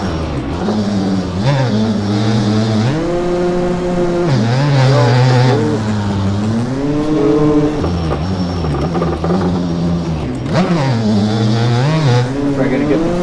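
A 2003 Suzuki RM 250 two-stroke dirt bike engine in the MX Bikes racing game on the Walnut track revs loudly and steadily, its pitch rising and falling repeatedly through corner exits across the whole stretch.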